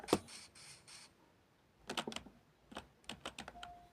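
Computer keyboard keys clatter in short clustered bursts, close and fairly quiet, with pauses between the runs of typing.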